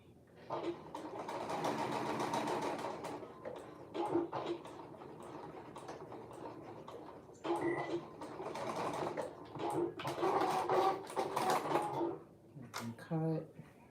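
Sewing machine stitching a jacket, running in several close, loud bursts of rapid needle chatter separated by brief pauses.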